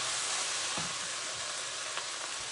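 Fried rice with sesame oil sizzles in a 12-inch skillet, giving a steady close hiss with a few faint clicks of a utensil and no talk.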